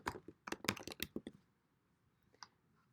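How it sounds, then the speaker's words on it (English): Quick bursts of typing on a computer keyboard while coding, a rapid cluster of close, crisp key clicks followed by a pause and one or two isolated taps. "I can also type it directly in my code editor."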